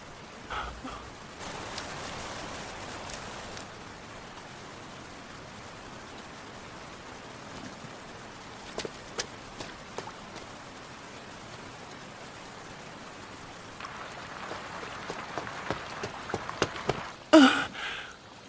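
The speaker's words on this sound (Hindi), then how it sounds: "फिर से बारिश शुरू हो गई है।" Steady rain patters softly throughout, with scattered louder drops and a few sharp knocks near the end.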